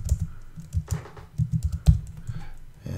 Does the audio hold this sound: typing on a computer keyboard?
yes